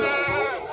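A white desi goat of pure local breed with long ears and long udders lets out a single loud, wavering bleat at a livestock market, close and clear.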